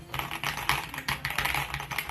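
Quick, close clicking keystrokes patter on a small compact keyboard propped on its little legs, an uneven rapid rhythm with no talk.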